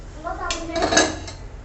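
Spinach paratha flipped on an oiled griddle: a short clatter of metal utensil against the pan, a few quick scraping clinks over about a second, close and fairly clear.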